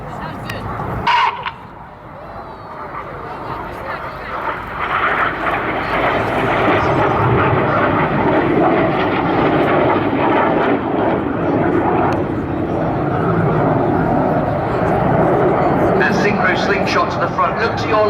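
Red Arrows jets flying the cyclone manoeuvre at an airshow build from a brief sharp burst into a sustained, loud, rushing jet roar that holds for most of the stretch, while a commentator talks over it.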